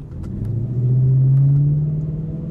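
An Audi A6 with its muffler deleted gives a deep, loud exhaust rumble that swells briefly as the revs rise, then eases back, close by and without talk.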